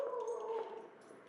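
Dog vocalizing indoors during a house cleaning, a drawn-out whining, howling tone that trails off, fairly faint and with no one talking over it.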